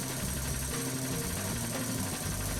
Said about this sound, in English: it's idling without the choke on